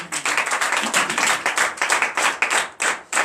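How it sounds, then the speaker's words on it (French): Church congregation at a Sunday worship service clapping in quick rhythmic bursts while cheering, loud and close, with brief pauses between claps. "Donnez l'acclamation à Jésus"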